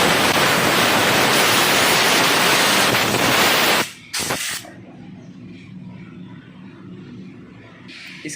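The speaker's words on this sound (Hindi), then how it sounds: "आप इस पर एक बार एयर का प्रेशर मारकर इसको क्लीन कर लें" Compressed air blows dust off the cylinder head of a Honda Activa scooter engine with a loud, steady hiss lasting nearly four seconds, then cuts off abruptly and leaves a quiet background.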